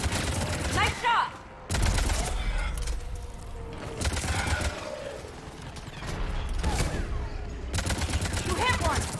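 Rapid bursts of gunfire in the video game Mass Effect 3, loud and dense with repeated volleys across the span, briefly pausing before resuming, mixed with voices talking over the combat.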